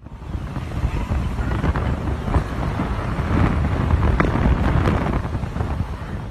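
A strong gust of wind at about 60 miles per hour roars steadily and loudly across an outdoor site, buffeting the microphone with a dense rumbling rush.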